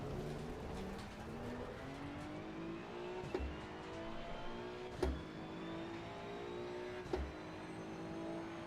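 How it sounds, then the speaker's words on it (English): Race car engine lapping the Red Bull Ring in Assetto Corsa Competizione, a continuous high-pitched motor note rising through the gears, with three brief thumps at the gear shifts. "It definitely sounds like they just stole the Ferrari engine note."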